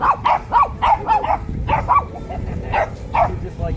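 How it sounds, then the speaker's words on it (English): A real dog barks repeatedly in a rapid, uneven series of sharp woofs, close and fairly loud, over steady background noise in an indoor setting. "That's a real dog right there, by the way."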